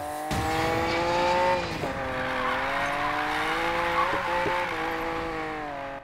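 A Lamborghini Diablo SV in Need for Speed Payback drives near an airport area, its engine droning with rising and falling revs and shifts, loud and steady, with a brief tire chirp.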